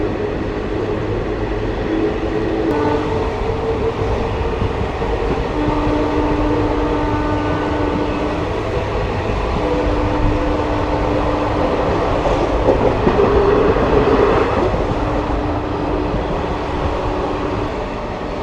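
A train rolls at night on the outer approach to Ludhiana station, a steady rumble with wheel noise and faint tonal whines rising and fading, loud and continuous throughout.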